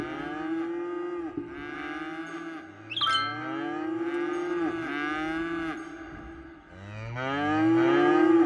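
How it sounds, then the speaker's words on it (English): Several cows in the Cities: Skylines video game moo in long, overlapping, drawn-out calls one after another, loud and close, with no talk over them. "Yay! We have cows."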